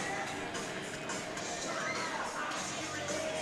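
Crowd at a college hockey game between Arkansas and Missouri State after a power play goal, a dense steady roar of cheering and shouting from many people, moderately loud and diffuse.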